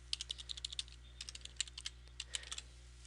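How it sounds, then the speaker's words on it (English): Keystrokes on a computer keyboard come in quick, uneven bursts of light clicks over a steady low electrical hum, close and fairly quiet with no talking. "Now I'm simply typing in my"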